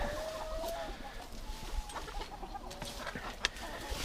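Hens cluck softly on a farm plot during potato digging, faint, intermittent calls against a low outdoor background with no speech.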